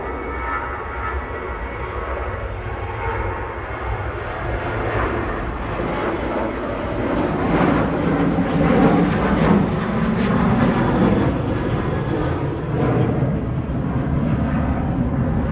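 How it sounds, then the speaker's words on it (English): An Aer Lingus Regional ATR 72-600 arriving from Dublin at Manchester Airport makes a broad, steady turboprop roar that swells gradually as it nears, loud and sustained with no talk. "Coming in now from Dublin is Aer Lingus Regional 3328 EIGPO ATR 72600."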